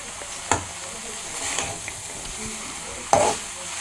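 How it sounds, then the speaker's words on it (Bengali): Peas, eggplant and spices are stirred in a frying pan. A soft, continuous sizzle sits beneath two sharp scrapes of a spatula against the pan. "ভালোভাবে মটরশুঁটিগুলোকে বেগুনের সাথে মশলার সাথে মিশিয়ে নিচ্ছি"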